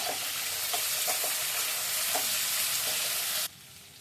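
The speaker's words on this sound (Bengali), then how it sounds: "মূলাগুলো একটু নেড়ে ছেড়ে নিই।" Radishes and potatoes fry in a pan while being stirred, a loud continuous sizzle with faint scraping stir strokes running through it, close up, ending abruptly; no speech.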